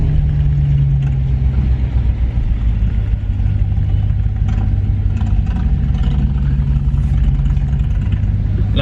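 A Hemi 5.7L engine rumbles steadily through a loud exhaust while cruising, giving a deep, continuous low drone with faint clatter and no pauses.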